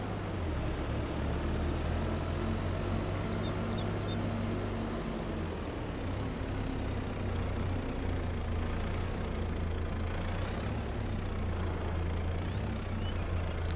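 Tractor engine in Farming Simulator 22, running steadily at a low, even idle-like drone with a constant level throughout and no talk over it.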